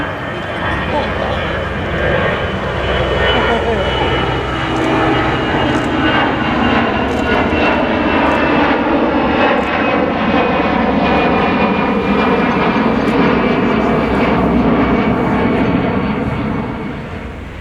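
Loud, steady roar of jet airliner engines at Rome Fiumicino airport, a broad sustained rumble that swells slightly and holds for most of the clip, with people talking nearby.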